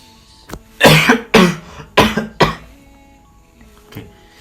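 A person gives a demonstration of effective coughing to clear phlegm: five strong, close coughs in a quick series, then a fainter throat-clearing cough after a pause.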